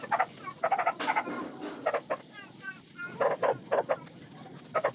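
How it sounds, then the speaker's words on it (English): A rooster calls out repeatedly on a windy night, its loud, close bursts coming in quick clusters, with a person talking between and over them. "And the roosters, below me it seems, I disturbed him so he keeps on crowing."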